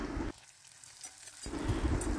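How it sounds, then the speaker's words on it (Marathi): Onion, tomato, green chilli and garlic fry in a hot tempering, a steady close hiss of sizzling that briefly drops away mid-clip, then returns louder, with no voices. "काला करण्यासाठी मस्त कांदा, टमाटा, हिरवी मिरची, लसूण मस्त फोडणी देऊन घेतलं।"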